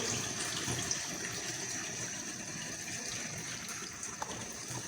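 Water is poured into a cooking pot for mutton yakhni pulao: steady running and splashing, a continuous soft gushing with a faint hiss, heard alone without voices.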